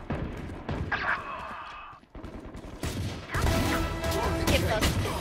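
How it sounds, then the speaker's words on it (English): A flashbang grenade goes off in the Valorant video game amid a busy firefight, with loud bangs, crashes and gunfire mixed together near the listener. "Flashbang."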